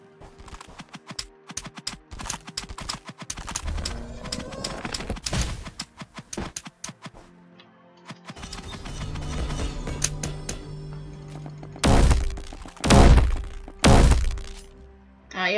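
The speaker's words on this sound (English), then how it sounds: "Why does the monarch make such a weird noise?" Odd noise of the Monarch boss in the Roblox game Bedwars, a clattering, clopping run of hits and thuds with several loud bursts near the end, set among busy game sounds and no talk.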